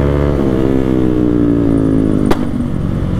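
A Yamaha R15 M sport motorcycle revs loudly up close, its engine note climbing steadily before a sharp crack like a backfire, then settling into a rough idle.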